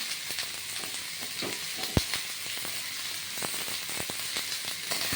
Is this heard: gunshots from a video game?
no